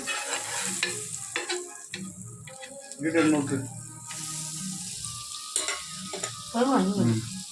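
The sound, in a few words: Amul butter sizzling on hot tawa for chicken roll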